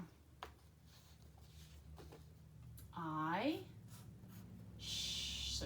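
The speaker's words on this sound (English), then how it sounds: "Mrs. DiMarco is going to write it up here" A teacher writes a sentence on a classroom board during a phonics lesson on digraphs, with soft scratchy marker or chalk strokes in the first half. A voice briefly cuts in partway through, and a louder hissy scrape near the end ends the clip.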